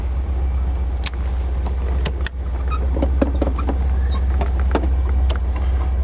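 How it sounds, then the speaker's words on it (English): Porsche 356 Speedster with a four-speed gearbox driving along, a steady low engine drone filling the background with a few sharp clicks and clunks from the cabin as the gears are shifted. "Four-speed shift's nice, doesn't grind even when downshifting from at speed"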